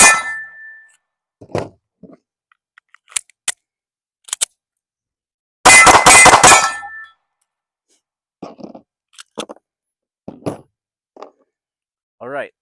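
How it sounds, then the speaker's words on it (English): Rounds fired from a Sig P365 pistol fitted with a Zaffiri Precision barrel and comp, heard as sharp, loud cracks, one very loud burst of several shots close together, and scattered quieter shots and clanks between pauses. "now I'm going to do the same thing and shoot 5 rounds and 5 rounds back to back"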